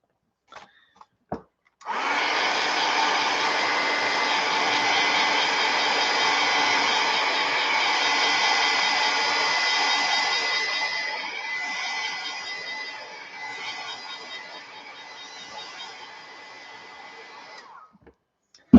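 Hair dryer blowing steadily on a mixed media art piece, a loud continuous whoosh that starts after a few faint knocks and runs unbroken for about fifteen seconds, easing slightly toward the end before cutting off.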